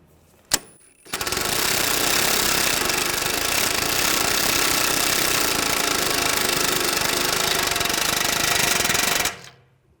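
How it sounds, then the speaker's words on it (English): An 18mm socket on a power tool tightens a front sway bar link nut on a 2011-2017 Nissan Juke, a loud continuous buzzing hammer-like rattle running steadily for about eight seconds after a brief click, then stopping abruptly. "And let the 22mm wrench on the back, 18mm socket, tighten this down."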